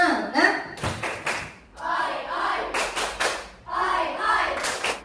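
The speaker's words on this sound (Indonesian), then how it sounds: "Tepuk semangat." A classroom of students does a rhythmic spirit clap, with three bursts of sharp, patterned hand claps mixed with energetic group chanting and short pauses between rounds.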